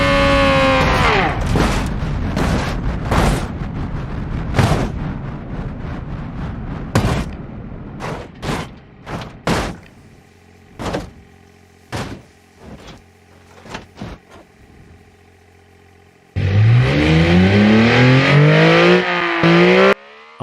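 A virtual car crashing in BeamNG Drive: heavy booming impacts and crunching, then a string of separate thuds and bangs with quiet gaps between them, followed by a loud engine rising and falling in pitch as the car drives off.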